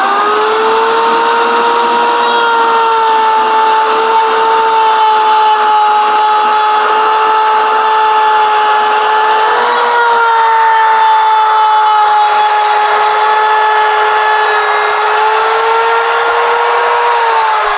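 A power tool runs at a steady high whine while cutting a rabbet across a piece of purpleheart wood. The tone is loud and sustained, dipping slightly partway through, with no talk.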